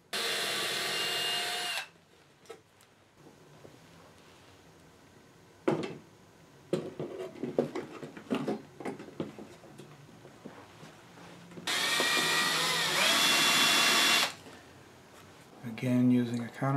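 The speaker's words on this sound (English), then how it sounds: "And on the wood, I'm using a much smaller bit." A small drill bit bores into the wooden panel of a radio receiver case in two short loud whirring bursts, one at the start and one near the end, with a person talking in between.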